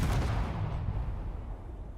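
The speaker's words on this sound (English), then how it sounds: "So this is the light cannon turret." A light single-barrel cannon turret fires in the space game Space Engineers, one loud booming shot at the start that decays into a long rumbling tail.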